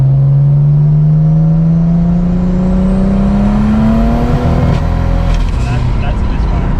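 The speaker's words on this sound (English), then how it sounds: "That's a misfire." Single-turbo BMW engine with a misfire from several cylinders, a loud, close drone rising steadily in pitch under load, then a rough break and stumble near the end as the tone falters.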